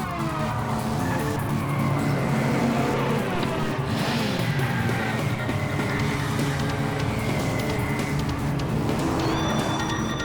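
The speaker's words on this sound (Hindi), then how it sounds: "गाड़ी नंबर 5 सबसे आगे जाते हुए" Several race cars run flat out in a circuit race, their engines roaring loud and continuous with layered, shifting engine notes and a hint of tire squeal, close by with no talking.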